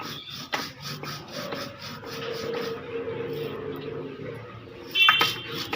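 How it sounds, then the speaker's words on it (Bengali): Spice paste is ground on a grinding stone for a pointed gourd and prawn dish, making close, rhythmic rasping strokes of stone on stone, repeated steadily with a louder scrape near the end. "আমি এরকমভাবে সুন্দরভাবে বেটে নেব এই দেখুন মশলাটা বাটা হয়ে গেছে"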